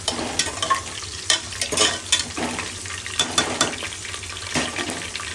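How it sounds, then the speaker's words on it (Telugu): Whole garam masala and biryani masala fry in hot oil for a coconut milk chicken biryani, a steady sizzle broken by repeated scraping stirs of a spoon in the pan, close and fairly loud. "సో ఆయిల్ హీట్ ఎక్కాక అందులో హోల్ గరం మసాలా వేసుకున్నాం ఇప్పుడు బిర్యానీ మసాలా వేసుకున్నాము"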